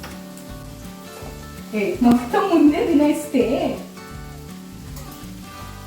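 Spices such as fenugreek, coriander, cumin, sesame, garlic and dried chilies frying in a pan for masala, a brief crackling sizzle rising for about two seconds over a steady low background, with a voice speaking.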